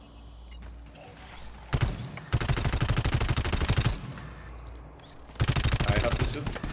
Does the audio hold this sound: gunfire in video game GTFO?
yes